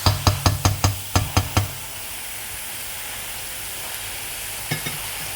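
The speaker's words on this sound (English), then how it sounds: "So just cooking in garlic and ginger" Garlic and ginger cooking in a pan, opening with a quick run of sharp metallic knocks from stirring against the pan, then a steady low sizzle and two more faint taps near the end.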